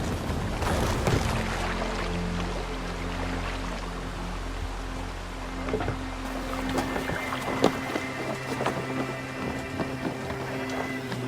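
A sailing ship gliding across open water in Assassin's Creed Valhalla, with a steady low rush of hull and waves under wind, continuous and close, while faint creaks and splashes rise toward the end.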